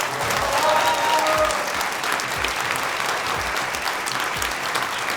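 An audience at a talent show semifinal in Armenia applauds steadily, with dense continuous clapping filling the whole stretch at an even loudness.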